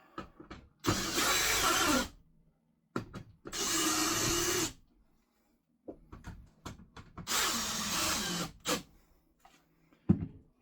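Screws go into an RV air-conditioner gasket during a Dometic unit replacement: three bursts of whirring power driving, each about a second long, separated by small clicks and handling noises.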